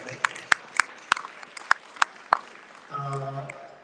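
Scattered individual claps from a small audience at a Philippine-American Chamber of Commerce dinner in Houston, about eight sharp separate claps in a room, then a brief murmur of voices.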